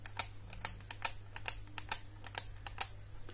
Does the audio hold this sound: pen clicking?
yes